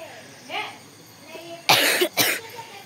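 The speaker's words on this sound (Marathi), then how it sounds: "सगळे बस खोकतात" A couple of sharp coughs close by, following a few faint murmurs.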